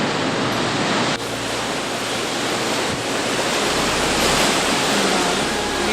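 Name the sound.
ocean waves on rocky shore, Cape Breton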